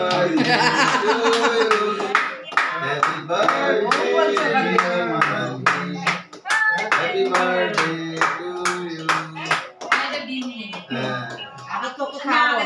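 People clapping together at a surprise family birthday party at home, a quick rhythmic patter of hands under lively talk and chuckling close by.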